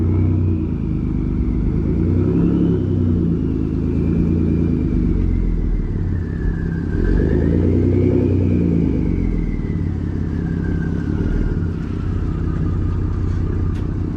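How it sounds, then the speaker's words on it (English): A modified Ford F-150 EcoBoost pickup with a full aftermarket exhaust and cold air intake, its turbo engine producing a loud, steady close-up rumble while a faint turbo whine rises and falls over it, with no talk. "I do actually love the turbo noise that the Ecoboost put out"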